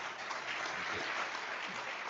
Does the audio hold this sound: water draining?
no